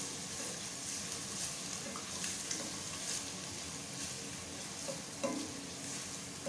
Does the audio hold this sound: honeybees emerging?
no